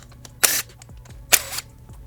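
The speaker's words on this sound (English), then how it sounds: "We'll go ahead and grab our tool and remove these bolts at this time." A power tool removes 10mm bolts from a Kawasaki KLX230 in two short, bright whirring bursts about a second apart, close by, with faint clicks between and no talking.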